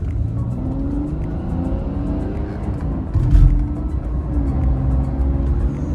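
A fully modified BMW 525d diesel engine revs under throttle, producing a close, loud, low engine roar that swells sharply in a burst midway and then settles into a sustained rumble.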